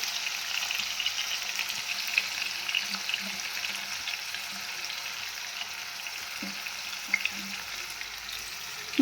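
Chopped onion and garlic fry steadily in a pan for a dry brinjal dish, a continuous bright hiss with a few soft knocks of a spoon against the pan, close and even throughout, with no voices.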